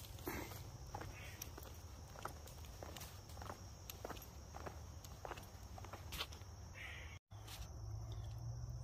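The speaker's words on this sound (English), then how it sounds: "I don't think that's a bird. I think that's what squirrels, they make those noises." A squirrel calls with harsh, caw-like chatter from trees beside a wooded walking path at a camping spot, sounding moderately distant over steady crunching footsteps and a low background hum.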